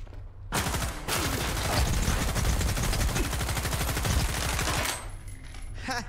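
Sustained automatic gunfire in S.T.A.L.K.E.R. 2, a rapid, loud stream of shots running for about four seconds before cutting off, with a few quieter game sounds around it.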